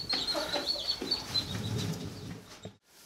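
Baby chicks and chickens cheep and cluck steadily in a barn, with high peeping close by over a soft shuffling background until the sound cuts off near the end.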